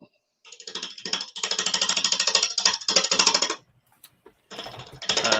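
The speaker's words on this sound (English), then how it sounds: "I'm going to take my 5/8 bull gouge and start roughing out the outside shape." Oak burl spinning on a lathe at about 850 rpm while being roughed out with a 5/8 bowl gouge, giving a loud rapid chattering rasp in bursts with brief pauses between cuts.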